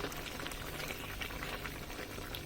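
Goat meat curry simmers in a pot on a stove after about an hour of cooking, giving a steady, faint bubbling and hissing throughout with no voices.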